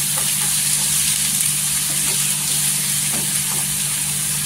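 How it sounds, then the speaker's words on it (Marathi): Onions and curry leaves sauté in a hot pan with a steady, close sizzle that runs throughout, with faint stirring and no one speaking. "इथे कढीपत्ता टाकायचा आणि इथे 2 ते 4 कांदे टाकलेले आहेत। कांदा पण इथे छान आहे ना परतून घ्यायचं गोल्डन कलरवर।"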